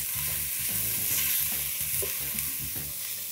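Finely chopped onion frying in spiced tempering oil, with a close, steady sizzle and repeated scraping stirs of a spoon against the pan, and no voices.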